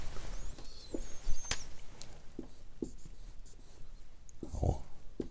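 Chalk or marker scratching out a circuit diagram on a classroom board, short scraping strokes and taps at an irregular pace, close and fairly quiet.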